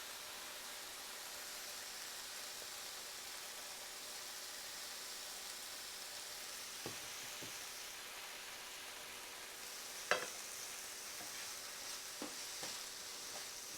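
Onions and chili flakes fry in a pan with a soft continuous sizzle, broken by a few quiet clicks and scrapes as a utensil stirs them, with one louder knock near the end.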